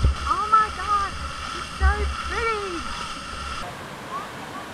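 Reggae Falls waterfall in St. Thomas, Jamaica rushes in a steady broadband roar beneath excited voices and whoops, with the water continuing alone briefly at the end.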